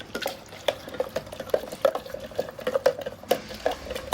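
A spoon stirs a homemade desi cold drink mixture in a glass, with steady rhythmic clinking against the glass and a light liquid swirl, close and alone.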